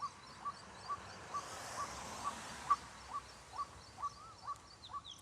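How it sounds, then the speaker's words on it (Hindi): Birds call repeatedly during rain, short evenly spaced chirps and a few rising whistles ringing out over a steady hiss of rainfall, moderately near and clear, with no talking. "पक्षियों की आवाज सुनो जी।"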